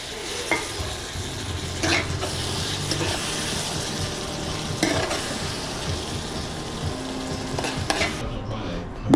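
Chicken curry with vegetables simmers and sizzles in a pot while a spoon stirs and scoops through it, with a few sharp clinks against the pot and a steady bubbling hiss throughout.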